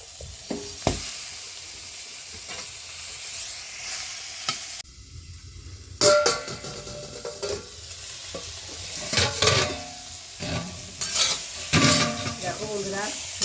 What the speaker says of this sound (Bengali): এই তেলের মধ্যে এটা দিয়ে দেবো এগুলো একটু হালকা হালকা করে ভেজে নেব